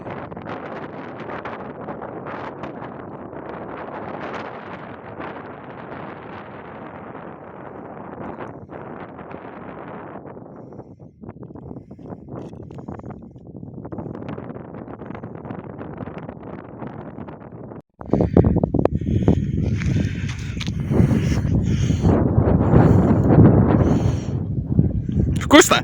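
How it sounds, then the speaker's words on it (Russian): Strong wind gusts buffet the microphone in an open field near a village, forest and grain threshing floor, a steady roar that surges much louder in the second half, with people talking faintly at times. "Ух, ветер какой!"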